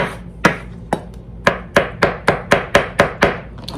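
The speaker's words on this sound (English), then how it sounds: "So now I'm just chopping up the poblanos." Knife chopping poblano peppers on a cutting board, about a dozen sharp, close chops, spaced out at first and then settling into a quick, steady rhythm.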